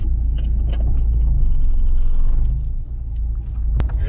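A car engine rumbles low and steady, heard from inside the car, with a constant muffled drone and no voices.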